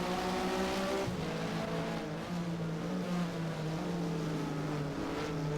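Porsche race car from the Mobil 1 Supercup, driven in Race07 at Catalunya, Spain, revs steadily through the gears, a loud continuous engine drone with rising harmonics and a brief dip at a shift.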